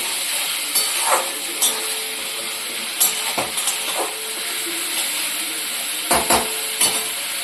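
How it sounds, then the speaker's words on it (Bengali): A mushroom dish stir-fried in a pan, a steady loud sizzling hiss with occasional scraping and stirring knocks from the spatula, close and without talk. "এটাকে ভালো করে কষিয়ে নিতে হবে।"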